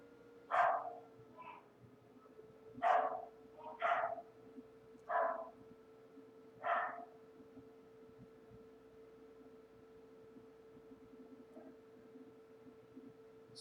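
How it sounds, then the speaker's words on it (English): A dog indoors in an apartment barks in several separate sharp woofs, moderately close, spaced over a few seconds and then falling quiet against a steady low electrical hum. "we have a dog in our apartment right now"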